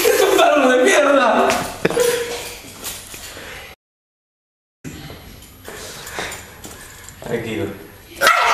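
A dog barks and whimpers up close amid shuffling and loud, agitated human shouting, with a brief dead gap partway through before the commotion resumes.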